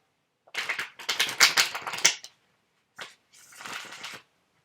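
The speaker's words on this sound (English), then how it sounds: "So as I'm shuffling the cards" Tarot cards are shuffled in two bursts of rapid riffling and flicking, close up, with a short pause between them and no voices.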